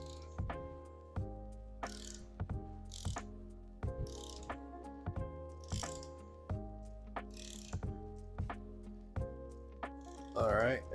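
A torque wrench tightening bolts on a BMW M3 E46 cylinder block during an engine build, steady repeated ratcheting clicks in short even strokes, close, with brief faint talk near the end.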